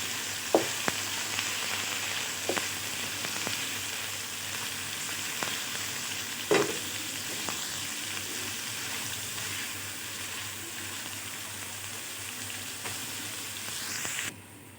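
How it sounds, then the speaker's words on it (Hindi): Onions sizzle and crackle in hot oil, a steady frying hiss with occasional sharp clinks and scrapes of stirring. "ऑयल गर्म हो चुका है, अब इसमें डालते हैं प्याज।"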